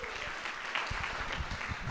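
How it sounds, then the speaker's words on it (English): Applause from the audience at the Diwali on Trafalgar Square 2025 launch, honouring the backstage team, steady and dense throughout, with some talk mixed in. "I think they deserve a big round of applause."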